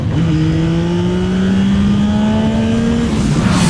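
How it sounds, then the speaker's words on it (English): Yamaha Tracer 9 GT+ motorcycle engine accelerating hard, a loud, steady rising engine note climbing in pitch through a gear for about three seconds, close and continuous with wind noise and no talking. "This engine is splendid. Sounds good. It's so quick."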